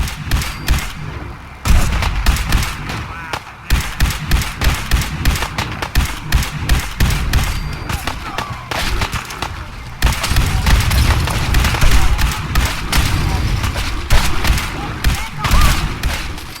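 Rapid gunfire in a Fallout 4: Far Harbor cutscene, loud dense bursts of shots and heavy booms in quick succession, close and continuous, with raised voices shouting amid the volley.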